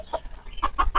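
Several short clucks from a Polish chicken in quick succession, close by, over a faint low background rumble.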